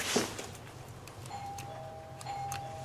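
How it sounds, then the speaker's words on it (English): A simple door chime box rings as a front door opens, producing a soft sustained tone that sounds twice after a brief knock or rattle of the door, with faint tapping around it. "And it's a nice, simple chime box."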